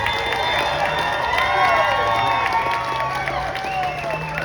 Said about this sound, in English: So give a round of applause for the people that rejected it.